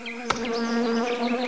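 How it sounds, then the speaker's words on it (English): Honeybees buzzing steadily and close, a dense droning hum with shifting pitch throughout, heard alone without speech. "Bees! What if they sting me?"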